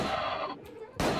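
Rapid gunshots ring out in the first-person horror shooter Unloved, a dense burst of firing at the start and another sharp blast at the end, with game ambience between them.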